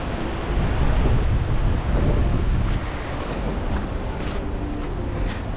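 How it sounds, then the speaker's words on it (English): Strong wind gusts buffeting a microphone on a mountain top, a loud, roaring rumble that swells and eases in waves and drops slightly in force partway through, with no speech. "it's very windy up here"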